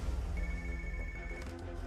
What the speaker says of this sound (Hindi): तुम ALX ऑफिस को फोन करो, जरा उनसे इंक्वायरी करना